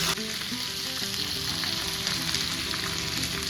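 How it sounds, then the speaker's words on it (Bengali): Potato, radish and broad beans frying in a pan, a continuous dense sizzle with faint stirring noises, steady and close throughout with no voices. "আলু আর মূলোটা একটু হালকা নেড়ে দিয়ে ভেজে ভেজে নিয়েছে, তারপর এর মধ্যে দিয়ে দিচ্ছে সিম।"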